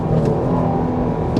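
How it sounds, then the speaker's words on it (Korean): Jeep Grand Cherokee L engine revving as the accelerator pedal is pressed, a loud, sustained low rumbling roar heard close up with no talk. "이런 식으로 RPM을 한번 띄운 다음에 다시 가속 페달을 밟아서 RPM을 한번 더 띄울 때"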